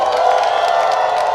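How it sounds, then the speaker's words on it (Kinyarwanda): A crowd at a Burundian political rally cheers loudly and steadily, a dense wash of voices with bright high shouts and possible ululation running through the whole short stretch. "Mumuhe impundu twumve."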